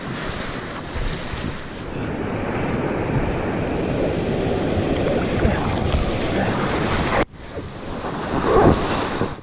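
Strong river current rushing and churning loudly in the Newfoundland wilderness, a steady broad wash with wind buffeting the microphone, briefly cut off near the end before surging back.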